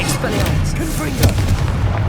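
A Confringo explosion spell in Hogwarts Legacy on PlayStation 5 rumbles as a deep booming blast with a thick low roar and a sharper burst midway, loud and steady.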